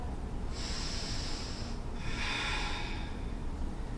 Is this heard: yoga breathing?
yes